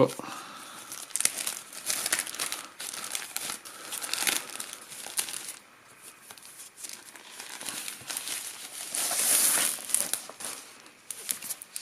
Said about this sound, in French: Donc on est en train de déballer ça.